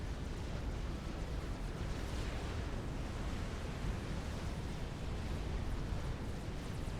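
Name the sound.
explosions in a video game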